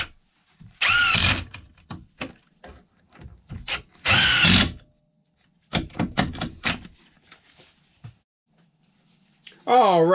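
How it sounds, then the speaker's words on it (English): A power drill whirs into wood while building a sink cabinet in an RV van, in short bursts, two strong runs and a few brief ones, with quiet gaps and some handling noise between them. "so I don't drill past that, so I don't put a hole through the wood"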